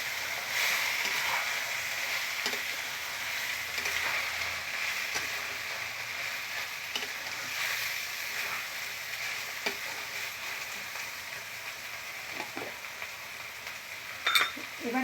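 Ground turmeric and spices sizzle in a pan during thor (banana stem) muri ghonto cooking, a soft, even frying hiss with occasional light stirring scrapes and a sharper clink near the end.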